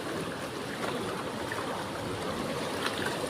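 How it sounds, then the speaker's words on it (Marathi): Water running down through a freshly cleared drain after monsoon rain, a steady continuous wash of flowing water with no talk. "आता थोडं थोडं जाते पाणी खाली"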